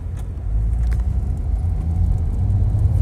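A 2008 Renault Laguna dCi diesel fitted with a smart clutch system pulls away in first gear, a steady low engine rumble heard from inside the car, fairly loud and continuous, with no speech.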